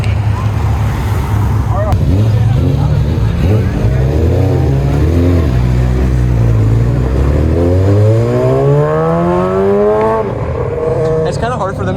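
Sports cars, among them Lamborghinis, GT-Rs, BMWs and AMGs, rev hard and accelerate one after another as they leave a car show. Loud, rising engine notes climb over traffic noise while onlookers talk and shout nearby.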